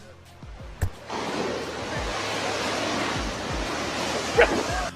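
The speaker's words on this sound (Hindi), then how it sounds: "आप देख सकते हैं कि कैसे समंदर में लहरें खतरनाक हद तक ऊपर जा रही हैं।" Dangerously high sea waves in a storm surge in with a loud, roaring broadband rush after a quieter start, punctuated by a few heavy thuds of water striking.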